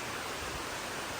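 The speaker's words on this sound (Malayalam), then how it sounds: "ഇപ്പോൾ ഇവിടെ നല്ല മഴ പെയ്യാൻ തുടങ്ങി." Rain starting to fall at a railway station in Kerala, a dense, steady hiss of broadband patter, close and continuous for a moment.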